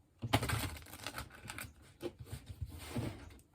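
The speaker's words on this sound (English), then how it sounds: "One more shuffle." Brief riffling and soft patter of Mermaid Tarot cards being shuffled, a short burst of dense flicking close by.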